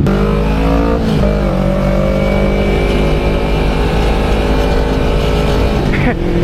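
A loud, continuous roar of several motorcycle engines, including a 2011 Kawasaki Ninja 250, riding together close by on a group morning ride, with rising and falling revs.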